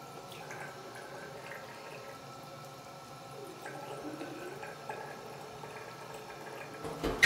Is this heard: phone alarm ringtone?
no